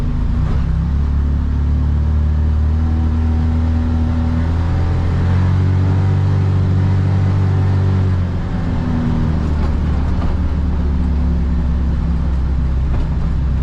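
Inside the enclosed cab of a Can-Am Defender side-by-side while driving, a steady low engine drone and road rumble hold throughout, with the pitch rising and falling gently as speed changes.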